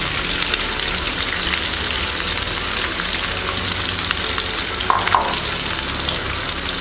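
Sliced onions and curry leaves fry in a pan for chicken chukka, giving a steady, loud sizzle with crackling throughout. A brief scraping stir comes near the end.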